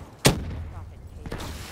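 Gunfire in Call of Duty Black Ops 3 arrives as one sharp, loud shot near the start and a fainter second report about a second later, set against low game ambience.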